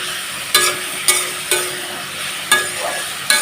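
Potatoes and pointed gourd frying in a pan, a soft continuous sizzle punctuated by five sharp metallic scrapes and clacks of a spatula at uneven intervals.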